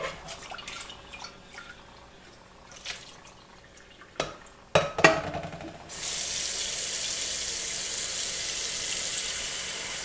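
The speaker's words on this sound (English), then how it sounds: "at this point my pot is filled with water" Water runs into a cooking pot, preceded by a few clanks and knocks of handling, then a steady, broad hiss of tap water pouring in for the last several seconds, close and unaccompanied.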